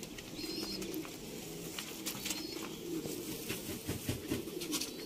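Rampuri pigeons coo softly and repeatedly in a loft in Sialkot, with a few wing flutters and faint chirps around them.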